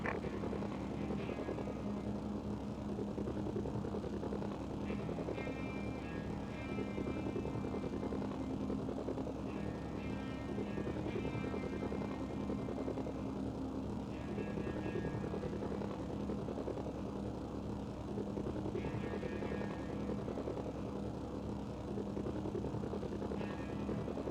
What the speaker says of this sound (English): You might be able to take a chopper from there and winch it.